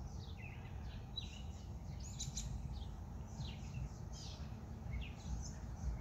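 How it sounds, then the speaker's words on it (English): Outdoor birds chirping faintly at a distance, scattered short tweets over a low steady background rumble. "You hear the birds?"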